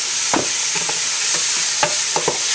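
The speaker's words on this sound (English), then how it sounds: "we want to keep this cooking until the onions are translucent" Onions and apples cook in butter in a pan with a steady, close sizzle, broken by a few soft scrapes of stirring while the mixture is turned. Nobody talks.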